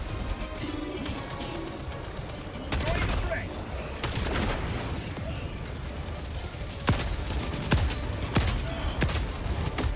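Rapid bursts of gunfire on the bot front in the video game Helldivers 2, with sharp cracks and heavier blasts over a constant loud battle din, while a voice talks briefly underneath.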